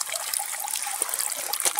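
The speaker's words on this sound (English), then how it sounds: "We've been draining the boat for like 8 minutes." Water trickles and dribbles out of a rowing boat as it is drained, a steady, close, splashy flow with no voices.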